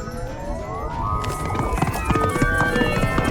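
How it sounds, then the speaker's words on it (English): Six horses pull a golden carriage in an animated Cinderella fairy tale, their hooves clip-clopping in a brisk, busy rhythm that swells after a quieter start. "the mice turned into 6 beautiful horses to pull the carriage."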